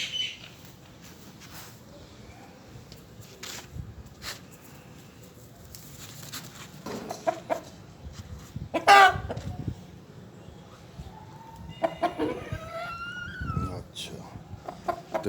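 Sindhi Aseel roosters and hens cluck and call close by in a farmyard, with scattered short clucks and one louder burst midway, while people talk quietly in the background.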